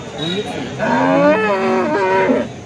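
A cow at a cattle market in Alephata gives a long, loud, close moo that bends upward and then downward in pitch. It fills most of the clip, with no other sounds standing out.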